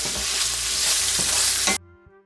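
Seasoned smoked sausages fry in a pan with a loud, dense sizzle while being stirred, the hiss cutting off abruptly near the end.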